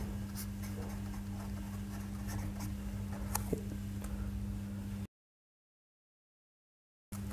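Pen or chalk writing by hand during a group theory maths lesson, faint scratchy strokes over a steady low hum, broken by a stretch of total silence near the end.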